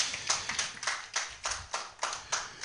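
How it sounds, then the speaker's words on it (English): An audience at a community development project launch claps hands in a steady rhythmic pattern, about two claps per second, with each burst sharp and fairly close. There is no talk over it. "Let's clap hands for ourselves."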